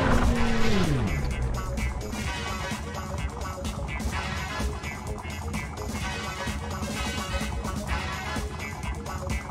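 A truck drives through city streets in the classic PS1 game Driver, with a steady engine rumble, tire squeals and a falling pitch sweep near the start, continuous and fairly loud.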